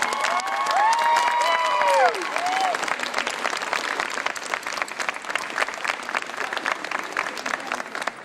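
Graduates applaud at a university commencement ceremony, a loud sustained round of clapping with some cheering from the crowd, and a bright whistling or tonal sound over the first two seconds before the clapping carries on steadily.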